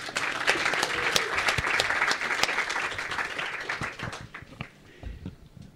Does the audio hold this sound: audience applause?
yes